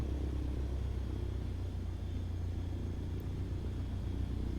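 Steady, droning engine of a Cessna 152 running in a flight simulator with the mixture leaned, a constant low rumble at even loudness with no voices.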